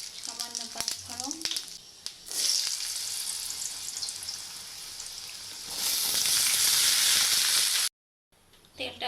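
Bay leaf and panch phoron spices hit hot oil for a tengra fish dish, giving loud, close sizzling bursts after a few spoken words, then cutting to a brief silence.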